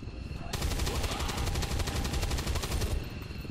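Rapid burst of automatic gunfire from a soldier in the turn-based strategy game XCOM 2, a dense, loud rattle of evenly spaced shots sustained for about two and a half seconds over a low background rumble.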